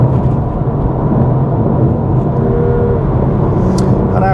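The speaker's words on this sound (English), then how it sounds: "Only once I'm fully offside am I really committing to the gas pedal." A car engine pulls hard under steady acceleration while overtaking on an open road, a loud continuous drone with wind and road noise throughout and no talking.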